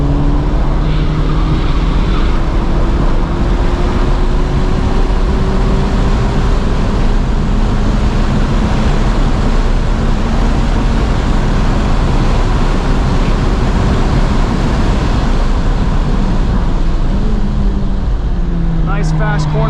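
A Honda Civic Type R FL5 on Michelin Pilot Sport Cup 2 tyres laps a race track, its engine roaring loud and close as the pitch climbs and drops through gear changes, with a voice talking over the engine and wind.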